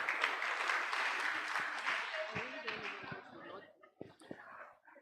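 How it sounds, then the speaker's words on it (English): An audience at a priest's 25th anniversary celebration claps in a broad, steady wash that gradually thins out into a few scattered claps, with some murmuring underneath. "Could you please clap for me?"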